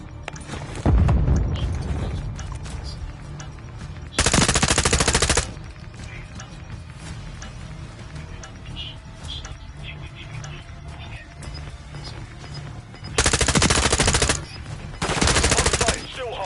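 Automatic weapon fire in the shooter game Modern Warfare 3 comes in loud, close bursts of rapid shots, an early burst followed by longer sustained strings, with quieter game noise and a faint voice between them.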